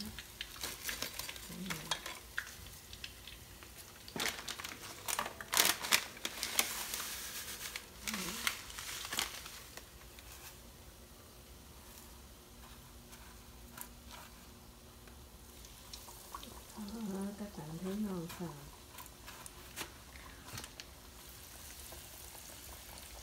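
Chicken fillets frying in a home kitchen pan, with steady soft sizzling broken by bursts of crackling, stirring and utensil scrapes, and a few brief moments of faint voices in the middle.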